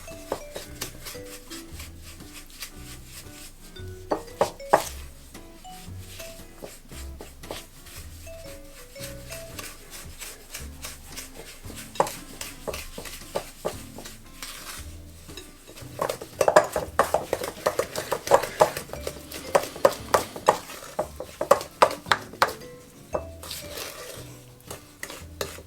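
Caster sugar being creamed in a bowl for blueberry muffins, a spoon or whisk scraping and clinking against the bowl in quick repeated strokes, close and fairly quiet, growing busier partway through.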